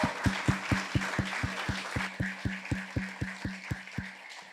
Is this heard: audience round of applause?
yes